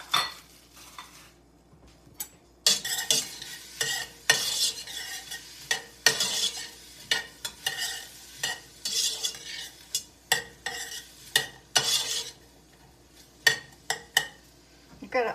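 Celery and onion cook down in a pot of kale and spinach soup over medium heat, with repeated scraping stirs and clinks of a utensil against the pot over a soft sizzle, close and fairly loud.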